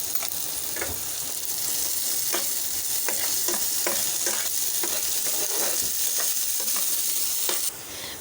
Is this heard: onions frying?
yes